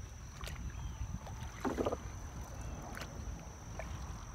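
Canoe paddling on open water on an outdoor trip, faint gentle splashes and soft drips over a steady background of wind and hum, with no talk.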